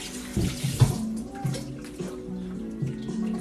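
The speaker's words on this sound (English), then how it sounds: "I'm just gonna rinse my measuring spoon" Water runs from a kitchen tap as a measuring spoon is rinsed under it, a steady close splashing stream with small clatters of the spoon near the start.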